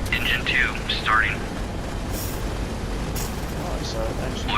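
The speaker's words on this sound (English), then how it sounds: "Engine 2 starting." A B-17 bomber engine number two spins up in the P3D flight simulator, a broad rushing roar that holds steady throughout while someone talks over it.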